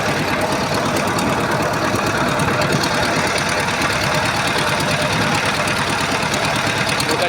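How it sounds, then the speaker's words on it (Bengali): A steady, droning trawler engine chugs continuously at close range on the Brahmaputra River, with a rough, knocking rumble and no pauses. "চলছে ট্রলার চলছে"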